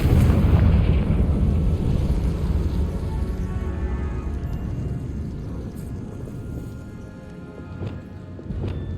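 A Confringo blasting spell goes off inside a tomb in Hogwarts Legacy. A loud, deep explosion rumbles at the start and slowly fades into a low, crumbling tail.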